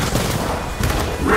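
Grenade explosion and gunfire crackle loudly from Gears of War 4 combat, a short dense burst of blasts and shots layered together.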